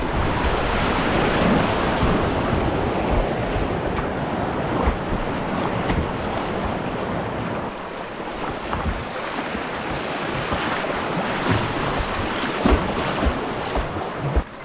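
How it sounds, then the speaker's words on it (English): River rapid where water pours over a sloping rock, a steady loud rushing roar that continues unbroken and close by, with no voices. "water's pouring over. This is the main part of the rapid"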